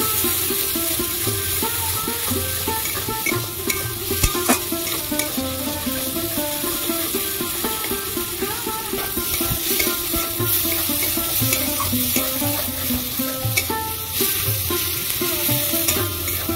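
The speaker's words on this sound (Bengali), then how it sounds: "এবার আমি রসুন বাটা দেবো, ভালো করে ভেজে নেবো।" Garlic paste fries with salted, softened tomatoes in a pan for fish kalia, giving a constant close sizzle with scraping stirs and light clinks throughout, no talk.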